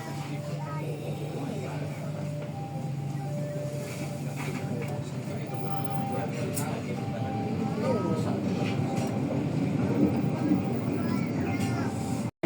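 Inside a moving KAI Commuter train, a steady low rumble and rolling drone fill the carriage throughout, growing slightly louder toward the end, with a recorded announcement voice speaking over it.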